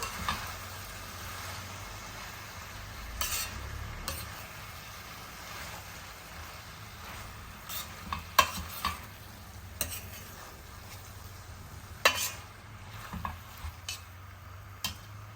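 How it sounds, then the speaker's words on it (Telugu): A spoon stirs tomatoes into fried onions, ginger-garlic and chili powder in a pan for a tomato paneer curry, giving soft repeated scrapes and clinks over a low steady sizzle, with sharper knocks near the end. "టమాటాలు వేసాం కదా మంచిగా ఒకసారి అంతా మన ఉల్లిపాయ వేగిన ఉల్లిపాయలు అల్లం వెల్లుల్లిపాయలు కారం అన్నీ వేసాం కదా ఇవన్నీ కలిసేటట్టు ఒక్కసారిగా తిప్పుకొని"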